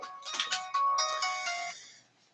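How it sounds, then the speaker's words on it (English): A phone rings in a short electronic ringtone melody, a close, clear burst of tonal chimes that fades out after about two seconds, with no talking over it. "Oh, there's my phone."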